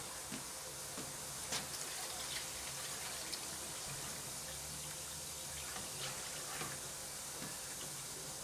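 Water runs and gushes steadily into an Indesit washing machine as it fills, a quiet continuous flow with small ticks and clicks mixed in.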